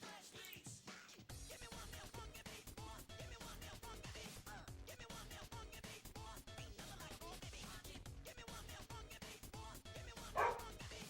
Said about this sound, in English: Oh, there's a dog outside.